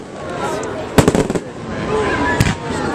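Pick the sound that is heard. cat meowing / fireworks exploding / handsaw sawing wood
fireworks exploding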